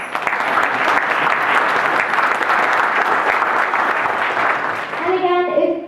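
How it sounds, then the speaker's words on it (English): A roomful of people at a fundraiser applauds the women in the audience, with dense, loud, steady clapping that fades near the end as a voice begins to speak. "So a round of applause for all the women who are here today."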